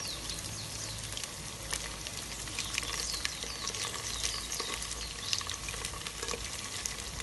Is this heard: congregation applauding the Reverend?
no